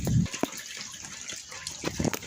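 Floodwater pouring and splashing out of a courtyard, a close watery gush at first that settles into trickling and sloshing with a few splashy bursts.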